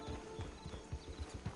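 Horse hooves clip-clop in Red Dead Redemption 2, a steady run of close, distinct hoofbeats in an even rhythm.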